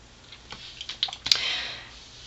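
A paper trimmer slices through Very Vanilla cardstock, giving a quiet run of small clicks and a brief swishing cut, close by and faint with no talking.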